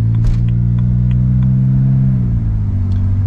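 A BMW E90 with a built engine and swapped 8HP70 automatic transmission revs up as the gearbox slips, a deep steady engine drone inside the cabin with a slight rise and fall in pitch.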